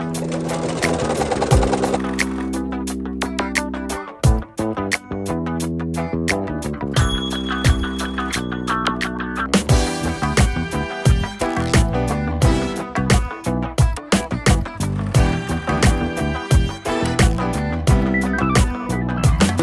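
A sewing machine runs in bursts and rattles with a sharp, clattering noise that signals it needs cleaning, its stitching rhythm stopping and restarting close by with no talking.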